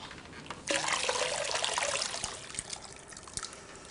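Water poured into a pot of stew with white wine and meat, a steady splashing rush starting abruptly and continuing close and fairly loud, then thinning to a trickle with small drips.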